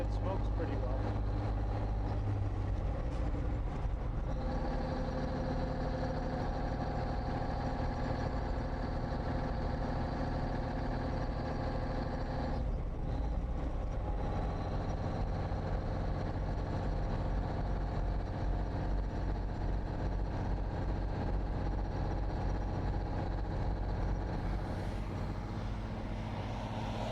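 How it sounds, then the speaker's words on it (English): A 1954 Kenworth two-axle tractor's naturally aspirated diesel engine runs at a steady, loud rumbling idle throughout, with its tone shifting slightly as revs change, while someone talks over it. "not having a turbocharger, it's just a naturally aspirated engine, and being a diesel, it smokes pretty well."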